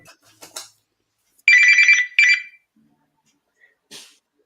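A red telephone rings in a television studio, two clear electronic trilling bursts in quick succession, loud and close, with a few faint bits of noise around them.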